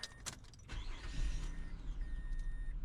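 A Mazda 6 car engine cranks and starts, with a whirring starter burst early on, then a low engine rumble settling into a steady idle, heard up close.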